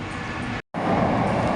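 A Mumbai metro train running from JVLR to Worli gives a loud, steady broadband rumble, cut by one very brief gap of silence before the rolling noise resumes.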